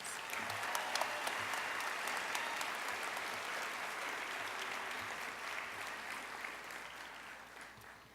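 Graduation audience applauding steadily and loudly for about eight seconds at a summer school commencement ceremony, dense continuous clapping filling the hall without a break.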